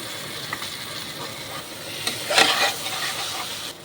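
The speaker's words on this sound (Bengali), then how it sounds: "মশলাটা ভাজা ভাজা হয়ে গেছে।" Spices with panch phoron frying in hot oil for a jackfruit curry, a soft continuous sizzle with a few stirring scrapes and a brief louder clatter near the middle, no talking.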